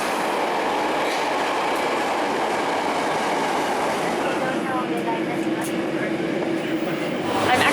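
A commuter train runs steadily with a continuous loud rumble and rail noise, some clickety-clack and faint wheel squeal, heard from on board at a constant level.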